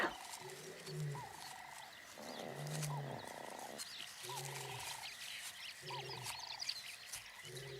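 A male lion calls from a distance, repeated low roaring grunts in a rhythmic series of about five bursts, moderately faint over a wild outdoor backdrop with birds and insects.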